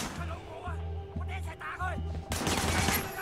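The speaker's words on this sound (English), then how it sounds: "Shooting at the guys over there." Gunfire in the video game Sleeping Dogs crackles in a brief burst of rapid shots near the end, after a stretch of low tonal game hum and other game sounds.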